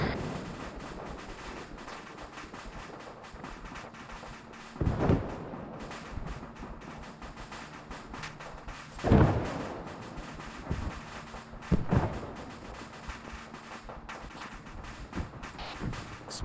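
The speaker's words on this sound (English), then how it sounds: "Explosions south on the airfield." Explosions on an airfield in the combat game Arma 3: several deep distant booms, the loudest near the middle, scattered over a low rumbling background without speech.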